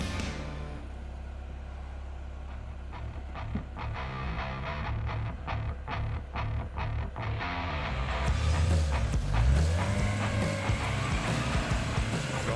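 A Tinger TF4 Pro all-terrain vehicle drives along, its engine droning steadily with rising rumble and splashing, rattling texture as it picks up speed, fairly close and loud throughout.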